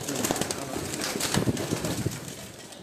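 Rakhi breed pigeons perform on a rooftop loft in Sialkot, giving soft overlapping coos with a few bursts of wing flapping, close and steady throughout.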